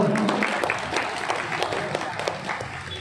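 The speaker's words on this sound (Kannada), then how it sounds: "ಜೋರಾಗಿ ಚಪ್ಪಾಳೆ ಹೊಡೆಯುವ ಮೂಲಕ ಸ್ವಾಗತವನ್ನು ಬಯಸೋಣ" Audience clapping to welcome guests at a pigeon tournament prize-giving ceremony, a dense continuous burst of applause from a crowd throughout.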